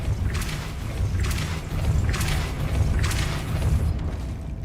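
Depulso spell cast in the video game Hogwarts Legacy, several deep booming whooshes in quick succession, loud and close over a rumbling game ambience with no talking.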